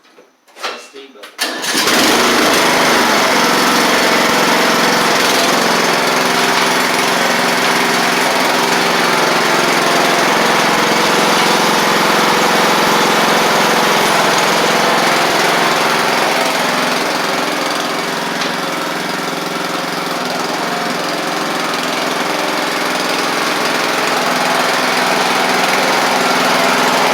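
A Craftsman riding lawn mower engine starts after a few sputters, then runs at a loud, steady, high-pitched drone from close by for the rest of the stretch.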